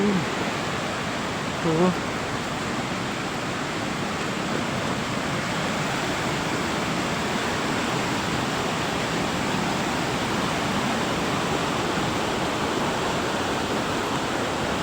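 Querocep Falls roars as a steady, dense rush of falling water, loud and unbroken throughout, with a man's brief word near the start.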